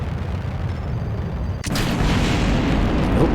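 A rocket in Kerbal Space Program blows apart during staging: steady engine roar, then a sudden sharp boom that leaves a louder, rougher rushing noise continuing afterward.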